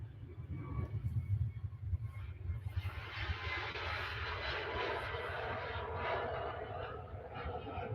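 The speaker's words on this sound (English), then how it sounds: "Ryanair off on their holly bags to Lanzarote." A Ryanair airliner takes off from Manchester Airport, its engine roar building from a low rumble into a loud, sustained broad roar, heard from a distance.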